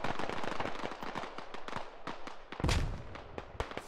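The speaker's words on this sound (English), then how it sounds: "Airstrike going right over the middle now." An airstrike in a military video game set at an insurgent stronghold, a dense series of sharp blasts and crackling detonations, with a heavier booming impact partway through.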